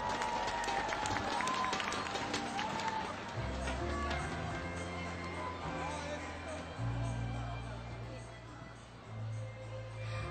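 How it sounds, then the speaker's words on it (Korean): A crowd at the 2005 Lineage 2 Live game event in Korea applauds, a dense, steady wash of clapping that blends with loud music and voices in a large hall. "여러분 다시 한번 큰 박수 부탁드립니다."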